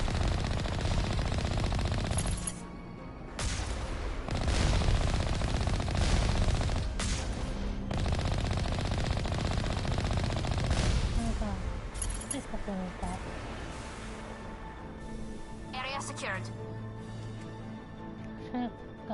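Gunfire rattles in Mass Effect 1, bursts of rapid automatic shots repeating in clusters with brief pauses, loud and close, while a voice talks over much of it.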